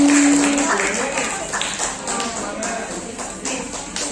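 Indoor audience applause at a school or community gathering, a dense run of clapping that persists throughout with scattered voices mixed in.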